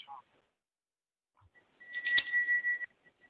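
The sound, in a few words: teleconference bell signalling counsel's time expired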